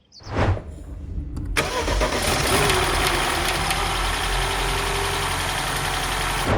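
A BMW F20/F30 with an N13 engine cranks and catches, then settles into a steady, loud idle that runs continuously to the end.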